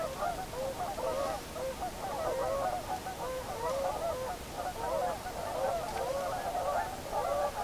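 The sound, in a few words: birds calling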